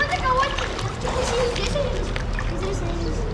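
Sea water splashes and sloshes close by as someone dives toward the bottom of a shallow stretch of sea off Thailand, short churning splashes with voices of people talking over them.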